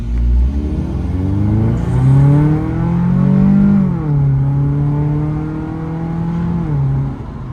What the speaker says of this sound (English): it's 4-cylinder idle, it's rough.